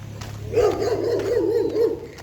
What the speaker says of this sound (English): It's a dog welcoming us.